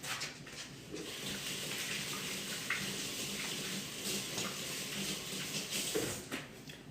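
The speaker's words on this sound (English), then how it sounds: "Now I'm going to give my hands a quick wash." Tap water runs steadily into a kitchen sink while hands are rinsed, a continuous broadband splashing hiss with small shifts in the flow, close and fairly quiet, with no talking.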